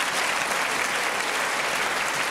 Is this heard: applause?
yes